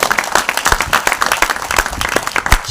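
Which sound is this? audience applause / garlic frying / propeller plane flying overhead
audience applause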